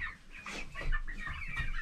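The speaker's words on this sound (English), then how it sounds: "He's a house chicken." A chicken clucks close by in short, repeated bursts, with a few sharper squawks breaking through.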